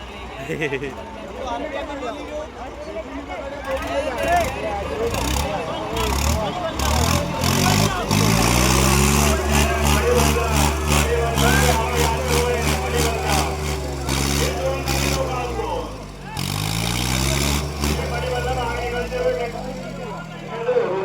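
Mahindra Yuvo and Preet tractors rev hard against each other in a tug-of-war contest. Their engines drone and climb in pitch through a long sustained pull, under a crowd and an excited announcer.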